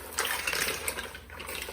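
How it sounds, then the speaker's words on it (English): Mussels stirred in a bubbling wine broth with garlic and saffron, giving a steady wet bubbling and sloshing wash of liquid throughout, fairly close and moderately loud with no talking. "the broth is bubbling away down there. Now I'm gonna give them a bit of a stir."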